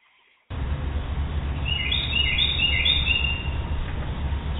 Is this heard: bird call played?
yes